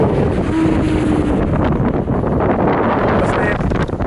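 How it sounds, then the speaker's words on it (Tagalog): Strong wind on Boracay, Philippines roars steadily against the microphone, a loud, continuous buffeting rumble with no pauses throughout. "lakas ng hangin"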